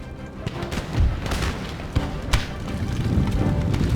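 Cannon fire from a Darthmod-modded Empire: Total War battle, heard as a steady stream of dull booms and thuds. Several sharper reports stand out over a dense, rumbling battlefield bed.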